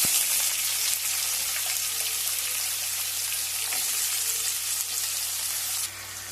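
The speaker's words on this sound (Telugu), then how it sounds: "ఇప్పుడైతే మనం ఆనియన్స్ వేసుకుందాం." Onions sizzle steadily in hot oil with mustard seeds and cumin for a Nellore-style egg pulusu, a close, continuous frying hiss with occasional stirring, which drops slightly near the end.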